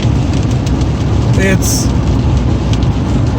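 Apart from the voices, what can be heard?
heavy rain downpour heard while driving a car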